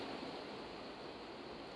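A steady, faint wash of flowing river water mixed with outdoor wind, continuous and even throughout with no voices.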